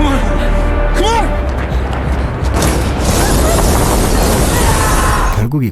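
A big bomb explodes in an action movie scene, a loud sustained rumbling roar with crashing debris amid music and effects, ending in a sharp burst.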